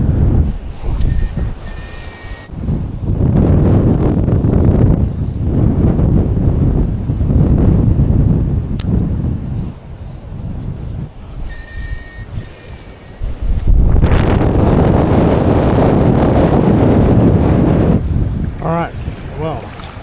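Wind and choppy waves while lure fishing for bream from the shore, a loud steady rushing and buffeting wash that swells and dips over the whole stretch, with brief lulls around the middle.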